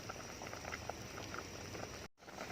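Paksiw na galunggong, round scad fish stewed in vinegar, simmering in a pot with a steady bubbling patter throughout, close and moderately loud, with a brief dropout near the end and no talk.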